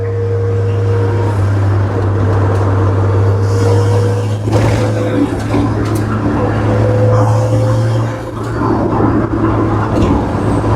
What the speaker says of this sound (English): The turbo noise, oh, makes it so good.